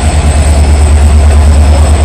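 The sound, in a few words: train with WP4 locomotive going to Santragachi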